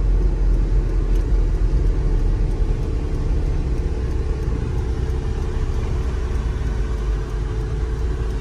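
A 1989 Toyota pickup with a 22RE four-cylinder engine runs at a steady idle, a close, loud low rumble with constant throb and no voices.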